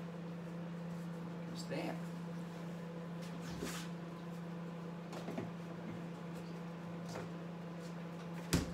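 A microwave oven heating apple pies hums steadily throughout, with a few clicks and clunks from the kitchen and someone talking briefly over it.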